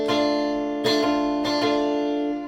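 A guitar chord strummed three times with the strings left unmuted, each strum ringing on loudly and sustaining into the next.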